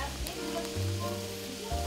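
Chicken pieces sizzle in a pan on a stovetop flame, giving a steady, close crackling hiss under a low humming background.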